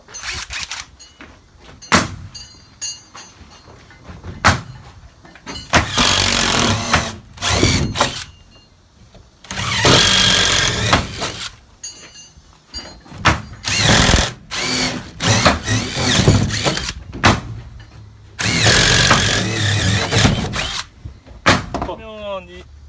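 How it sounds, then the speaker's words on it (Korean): An impact driver bores holes into the corners of OSB plywood sheathing on a wood-frame house build, with several loud bursts of a few seconds each. Quieter gaps between them hold short thuds, and someone talks between bursts. "임팩 드라이버를 해서 이렇게 내 모서리에 구멍을 뚫어야 됩니다."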